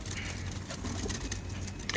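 A champion performer pigeon on a rooftop loft, giving low, steady cooing notes against faint background noise.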